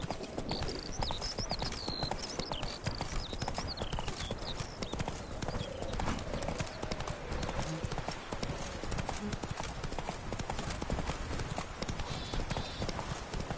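Horse hooves clip-clop steadily through The Witcher 3: Blood and Wine, a continuous rhythmic trot or gallop with occasional whinny-like calls over ambient game sound, with a rider urging the horse on.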